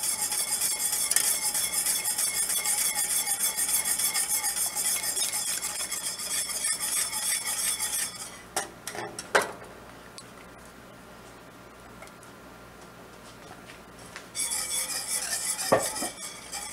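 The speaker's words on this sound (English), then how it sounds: "Just going to whisk this on in there." A whisk stirs cold water and cornstarch into sweet and sour meatball sauce in a crock pot, making a busy, scraping clatter that pauses midway for soft knocks and then resumes.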